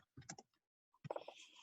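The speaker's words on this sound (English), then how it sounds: "Sorry if you can hear my typing." Quiet, close typing on a computer keyboard during an online webinar: a few scattered keystroke clicks, then a short burst of faster tapping.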